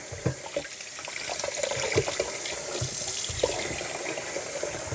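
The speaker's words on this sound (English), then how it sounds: "So we're just going to wash our apples." Arkansas Black apples are washed under a running kitchen tap, water splashing and drumming steadily into the sink with small knocks of fruit being handled, close and continuous with no talk.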